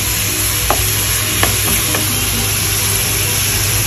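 Shrimp and tomato frying in a pan, a loud continuous sizzle and hum with a few sharp scrape clicks from stirring.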